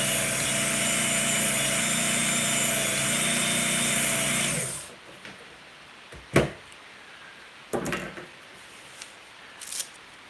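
An electric knife sharpener running on its 1000 grit stage gives a loud, steady grinding whir for about five seconds, then cuts off, leaving a few short faint scrapes and clicks.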